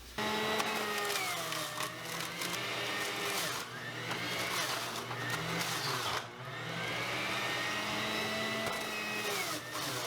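A Breville Bluicer juicer runs steadily as fruit is juiced, a continuous loud motor whine with grinding texture that holds for about ten seconds, briefly dipping twice, with a faint voice in the background.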